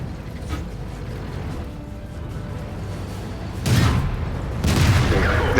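A tank cannon firing in World of Tanks, an M6 scoring a hit, gives two heavy booming blasts close together late on, over a steady rumble of battle noise.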